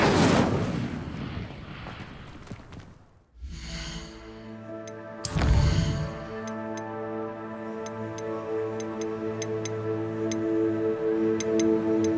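An Incendio fire spell cast in Hogwarts Legacy bursts with a sharp whoosh, then a sustained magical tonal ring lingers with faint ticking sparkles, loud and close.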